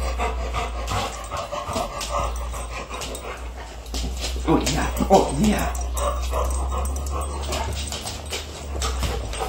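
A dog pants and gives soft whimpers during an excited greeting at home, its quick breaths and whines mixed under a person's warm, low talk close to the microphone.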